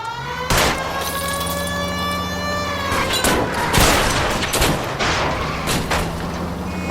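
Gunfire during a car chase in the video game LA Noire, several sharp shots cracking at irregular intervals over a steady droning engine and wailing siren, loud and close.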